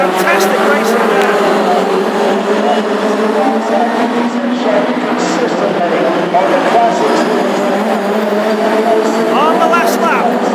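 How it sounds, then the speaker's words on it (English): Three Ford Anglia hot rods race at Wimbledon, their engines roaring continuously from mid-distance with shifting revs and passing whine, while a commentator talks over the racket. "That battle raging on further down between the 3 Anglias."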